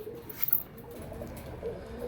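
A pigeon gives a soft, low coo close by, faint over a quiet room hum.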